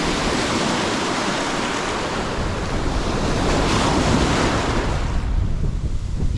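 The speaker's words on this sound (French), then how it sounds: "J'ai quand même un vent de travers hein, assez soutenu" Strong crosswind by the sea while fishing, a dense, loud roar of wind buffeting the microphone over continuous surf, with no voices.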